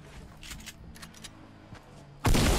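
Fortnite gunfire: scattered faint shots and clicks under game noise, then a loud, dense burst of firing near the end.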